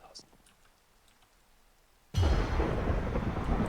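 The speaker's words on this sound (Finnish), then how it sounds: "Mistä tuli ukkonen?" Thunder in the Minecraft video game crashes in suddenly after a quiet stretch, a loud broad rumble that holds and rolls on to the end, with faint clicks before it.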